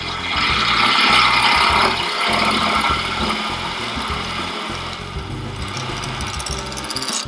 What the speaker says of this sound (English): So let's get the lathe started